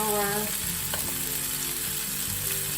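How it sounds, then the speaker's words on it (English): Garlic fries in a pan for a duck egg omelette, a steady close sizzle with light stirring and no talk. "I forgot to add the garlic, so let's throw some garlic in."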